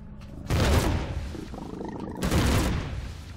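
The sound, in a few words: gunfire shooting at the player in the video game Empyrion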